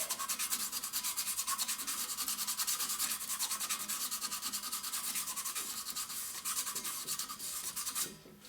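Steady, rhythmic back-and-forth rasping of sandpaper smoothing high spots on a metal shaft from a bead sand blaster's rotary table, close and continuous for several seconds before stopping abruptly.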